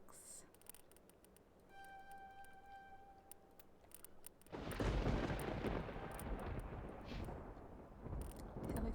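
Gunfire in the Mass Effect shooter game: a quiet stretch with faint clicks and a couple of tonal beeps, then a sudden loud, dense burst of weapon fire and blasts that keeps on, swelling again near the end.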